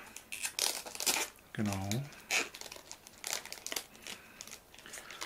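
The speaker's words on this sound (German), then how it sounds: "Die Ladeschale ist mit so Folie umwickelt." Plastic film crinkling and tearing as it is unwrapped from the charging cradle of an AVM FRITZ!Fon C5 phone, close and repeated in bursts throughout, while someone talks and briefly says a word.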